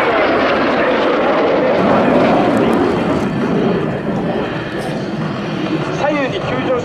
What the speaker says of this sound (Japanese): 左右に急上昇していった2機は間髪を入れずに急降下に移り、再び会場正面に戻ってまいります。